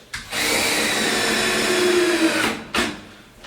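Power driver sinking a 3.5 inch spiral screw into a recessed wall shelf: a steady loud whirring run of about two seconds, then a short second burst, close and with no talking.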